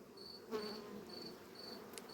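Faint, steady buzzing of honeybees at an opened hive hums close by, with a thin high chirping pulse repeating in the background.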